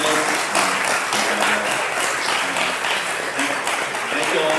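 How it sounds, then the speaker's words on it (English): Steady, full audience applause for panelists at a healthcare education event on green hospitals, continuous dense clapping with voices murmuring underneath. "Just give a round of applause for the panelists."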